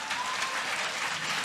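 A church congregation applauding during a women's conference service, with steady, dense clapping throughout and no talking over it.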